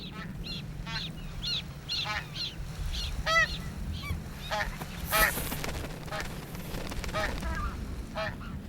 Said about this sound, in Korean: 어미의 도움을 기다리는 새끼의 소리가 더 거세진다